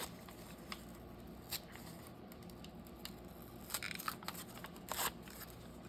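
Several quiet, crisp snips of scissors cutting paper, scattered irregularly over low background rustle, with the sharpest cluster near the end.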